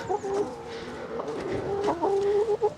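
Hens clucking nearby on a small farm, a run of short, pitched calls with a few louder bursts near the end, close and fairly clear over a light outdoor background.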